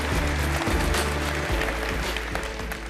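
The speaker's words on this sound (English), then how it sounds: "A round of applause for Harrison Chase, please." Sustained applause from a conference audience at Cisco Live 2025 in San Diego, a dense, even wash of clapping from many hands holding steady throughout.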